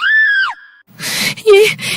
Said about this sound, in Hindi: अनीता ने यह रूप देखते ही जोर से चीख मार दी